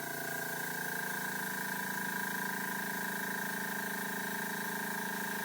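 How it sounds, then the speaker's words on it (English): A Silentaire Scorpion 1 air compressor running steadily, a continuous even hum with stable tonal whine and faint hiss, unchanging throughout, moderately quiet and close, with no voices. "Alright, now I'm going to run the Silentaire Scorpion 1 as a comparison."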